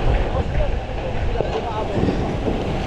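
Strong wind buffets the microphone in a steady roar at a fire response in Pandacan, Manila, with a constant low rumble and faint voices underneath.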